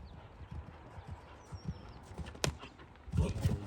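Horse hooves clip-clop over ground during show jumping training, close and uneven, with a sharp thud midway and heavier hoofbeats toward the end.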